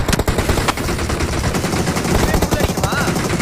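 Loud, nearly nonstop video-game gunfire, including a UMP submachine gun, rattles out in rapid automatic bursts with sharp single shots mixed in. A voice talks faintly underneath.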